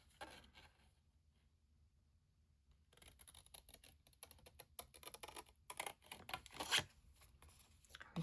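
Large scissors snip through paper to cut out a stamped sentiment, giving a run of crisp, close cutting and rustling sounds after a quiet pause, growing busier and louder toward the end.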